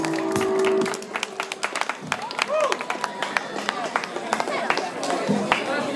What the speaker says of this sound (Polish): duże brawa dla chłopaków